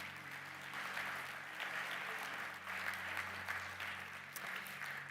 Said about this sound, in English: So round of applause for yourselves for that.